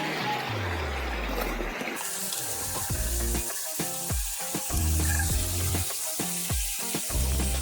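Isopropyl alcohol pours steadily from a bottle, a loud close gurgling stream with bubbling glugs that pulse as the liquid flows.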